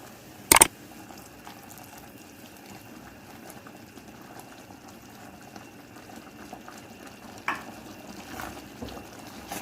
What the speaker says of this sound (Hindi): ये पानी ना उबलना शुरू हो गया है